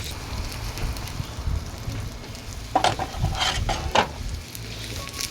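Garlic sizzles and fries in hot oil for Trinidadian baigan and tomato choka, a steady close crackle with a few louder bursts of spattering and stirring partway through, with no talking.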